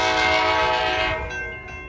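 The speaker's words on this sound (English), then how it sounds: "a railroad that runs through town often" A train rolls through the seaside town of Carlsbad in San Diego, its horn sounding loud and close with a sustained tonal blast that fades toward the end, over a rumbling undertone.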